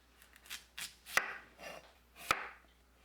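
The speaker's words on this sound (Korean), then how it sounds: "콜라빈을 채 썰어주세요." A knife cuts peeled kohlrabi into thin strips on a board, giving soft irregular slicing strokes punctuated by two sharp chopping knocks, quiet and close, with no speech.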